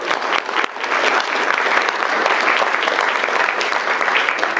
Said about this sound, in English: give yourselves a great big clap too